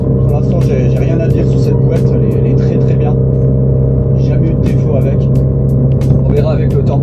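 A Renault Clio 4 RS engine drones and rumbles steadily under full throttle after a downshift, heard from inside the car beneath someone talking throughout.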